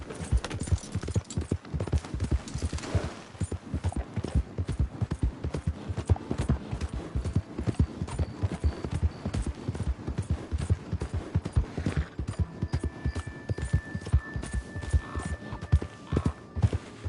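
Horse hooves gallop in a rapid, steady clip-clop rhythm across Red Dead Redemption 2, loud and close, carrying on throughout with a faint whinny now and then.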